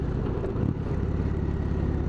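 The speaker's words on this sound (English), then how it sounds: "Engine braking" Indian Roadmaster motorcycle engine braking on an open road, a steady low rumbling drone with wind rush, continuous and fairly even throughout.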